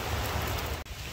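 Steady rain falls outdoors on a field, a soft dense patter with no voices, continuous apart from a brief dropout near the end.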